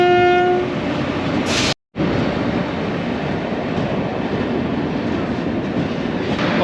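The Wainganga Express rumbles through a station with a loud, continuous roar of rolling wagons, a brief horn tone at the start, and a sudden momentary dropout before the rushing wheel noise resumes.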